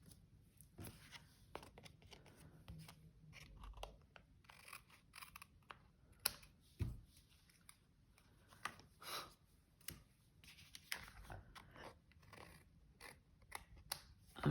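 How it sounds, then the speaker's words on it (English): Scissors trimming small patterned paper pieces for a hot-dog-themed Stampin' Up! greeting card, a quiet run of soft snips and paper rustles spread through a crafting session, with no talk. "But I am going to trim these little bits here."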